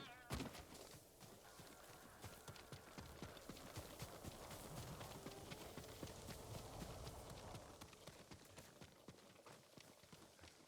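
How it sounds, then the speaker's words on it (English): Steady clip-clop of a farm horse's hooves walking at an unhurried pace in the video game Ghost of Tsushima, fairly close, with faint ambient background sound throughout. "A farm horse."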